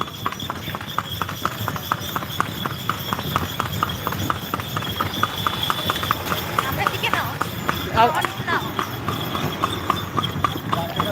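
Rhythmic clip-clop of a horse's hooves trotting at a steady pace, close by, pulling a cart in Bihar, with a faint rolling rumble of the cart and people talking over it.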